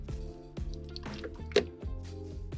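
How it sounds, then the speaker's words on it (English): Deionized water poured slowly and gently into a motorcycle radiator on a CB500 race bike build, giving soft drips and wet squishing splashes close by, with a brief louder splash partway through. "I'm going to really gently try and slowly pour some water in"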